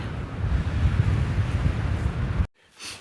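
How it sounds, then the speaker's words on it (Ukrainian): Strong wind at a lighthouse in Hirtshals, Denmark, buffets the microphone with a loud, roaring rumble that cuts off abruptly near the end, leaving a faint gust. "Але вітер на маяку то дуже відчувається, дуже-дуже сильний."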